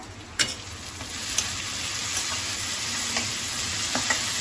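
Peas and potatoes sautéing in a pan for ghugni give a steady, close sizzle with a few sharp clicks of a stirring spoon, no talking.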